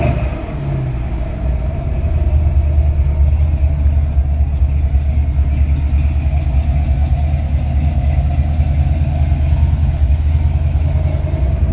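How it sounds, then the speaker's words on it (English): A 1962 Chevrolet C10 pickup with Hedman headers runs steadily, its exhaust giving a deep, aggressive but moderate rumble that stays loud and close and rises slightly after the first two seconds, with no talking. "A good solid running engine. Got Hedman headers on it. I really like the sound of this exhaust."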